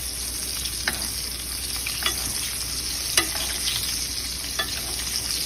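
Meat being basted in hot, bubbling fat: a steady, close sizzle and crackle runs throughout, with a few sharp spoon clicks against the pan at irregular intervals, and no voices.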